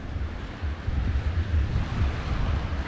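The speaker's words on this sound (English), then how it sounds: "fall asleep with the sound of the ocean" Ocean waves wash onto a beach in Honduras, a steady low rumbling surf with wind buffeting the microphone, continuous and fairly loud with no voices.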